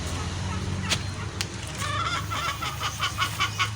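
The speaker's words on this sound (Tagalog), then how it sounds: "Tandang sila." Rhode Island roosters and hens on a farm clucking and calling, a few sharp squawks early then a run of rhythmic clucks, moderately close over low background noise.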